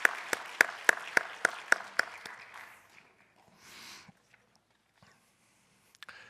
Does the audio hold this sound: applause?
yes